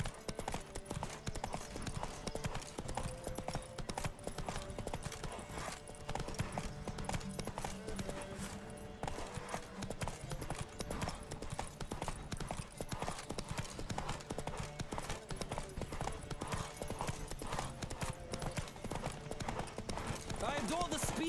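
Horse galloping in The Witcher 3, a fast, continuous clip-clop of hooves that drives steadily throughout, loud and close, with occasional voices and game sounds layered over it.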